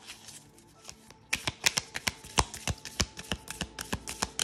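An oracle card deck is riffled and shuffled by hand: a quiet start, then a fast run of sharp, close papery snaps and taps in an irregular rhythm, with no voice.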